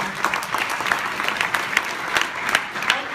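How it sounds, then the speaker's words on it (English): Applause at a startup festival event in Vienna: a short burst of moderate clapping from an audience, with distinct individual claps standing out over a few seconds. "round of applause"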